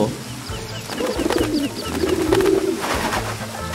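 Pigeon-like birds coo in a Disney video game, with soft repeated coos rising over a steady background of game sound and clicks across a few seconds.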